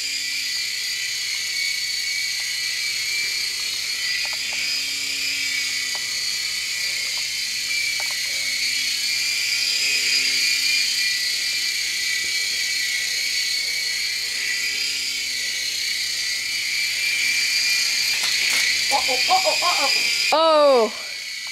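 A radio-controlled helicopter with a missile mount hovers steadily nearby, its propellers keeping up a continuous high whine and buzz that swells slightly before cutting off abruptly near the end.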